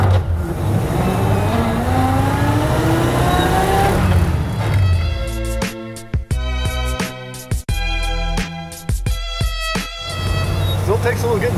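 A DuPont car pulls away onto the open road, its engine rising through the gears in loud, close acceleration, with a few gear-change dips and rattles toward the end.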